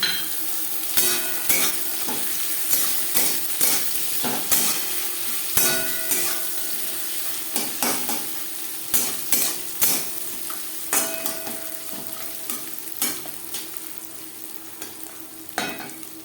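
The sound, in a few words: onion and green chillies frying in a pan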